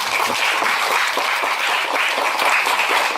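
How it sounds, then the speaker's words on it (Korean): Forum audience clapping for the presenters and panelists at a youth forum, a short, dense burst of applause at steady loudness with no talk. "주제 발표 토론해주신 모든 분들께 박수 한번 부탁드립니다."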